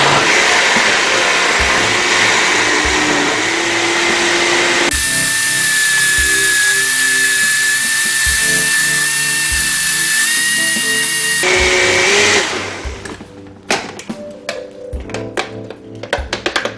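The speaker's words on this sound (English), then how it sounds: "you're going to blend it until it's creamy and well combined" A kitchen blender whirs loudly and steadily while blending blueberry Greek frozen yogurt ingredients until creamy, its motor pitch shifting in stages before cutting out into a scatter of clattering, knocking sounds.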